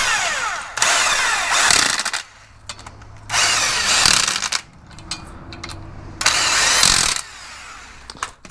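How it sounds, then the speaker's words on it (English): An electric impact wrench runs down wheel hub bolts through a rotor in three loud, close bursts of rapid hammering rattle, with short quieter pauses between them and no talking. "I'm gonna get them run down with the electric impact."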